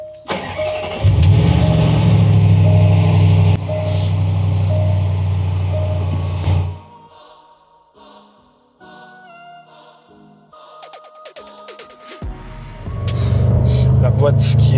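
A Range Rover SVR SUV with a 575 hp engine roars loudly on a road test, its strong low rumble surging, dropping away into a quieter stretch with clicks, then building again near the end.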